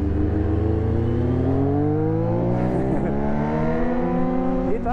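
A BMW S1000 RR motorcycle ridden along Insurgentes in Mexico City, its engine droning loud and close with steadily climbing harmonic pitch as it accelerates, plus some wind rush throughout.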